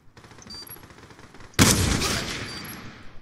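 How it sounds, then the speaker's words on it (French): Gunfire in Call of Duty: Black Ops 2 erupts as a sudden loud burst after quieter game ambience, then fades gradually. "il me tire dessus"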